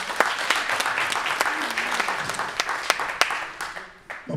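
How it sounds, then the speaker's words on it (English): An audience at a Philadelphia community event breaks into sustained applause, dense clapping with sharp individual claps standing out, while voices murmur and call out beneath it. "Give her a round of applause."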